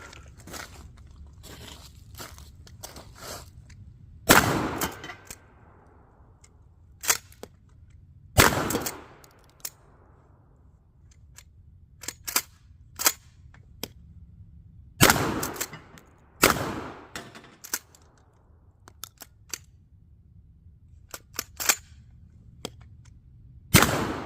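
Several sharp, loud shotgun blasts from a Remington 870 Express .410 firing 3-inch shells outdoors, spaced irregularly several seconds apart, with softer clicks and clacks of the pump action and handling between shots.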